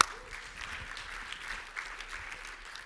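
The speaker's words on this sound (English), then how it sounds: "round of applause for you, Linnea." An audience gives a steady round of applause at a presentation, fairly quiet and even from start to finish with no talking over it.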